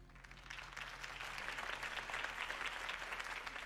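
Sustained applause from a large crowd after a speech in Batman: The Telltale Series, steady clapping throughout at moderate volume with a slightly distant, roomy quality.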